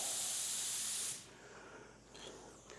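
A paint spray gun set to 25 PSI blasts compressed air in a loud, close, steady hiss for about a second before cutting off, leaving quiet room noise with faint small sounds.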